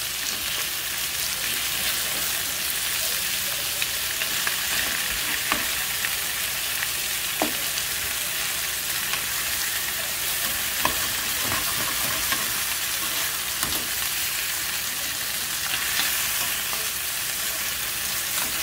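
Chicken pieces, including thighs cut in half, sizzle and fry steadily in a pan for a stew, with a dense continuous crackle and occasional stirring scrapes, no voices.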